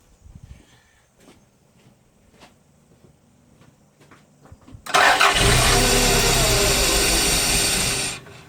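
A Toyota MR2 engine, running on brake cleaner as fuel, cranks and fires at about five seconds, then runs loud and steady for roughly three seconds before cutting off, after a stretch of quiet garage rustling.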